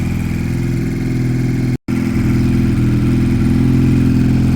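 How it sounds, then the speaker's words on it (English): A Piaggio Fly scooter engine idles close by with a steady, slightly uneven putter, broken by one brief cut-out before it carries on. "There's still an idle fluctuation. It's very slight, but it's annoying."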